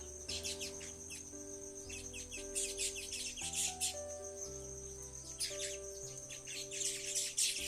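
Birds eating feed together chirp and tweet in quick clusters over a steady hum of insects, with a low background drone throughout.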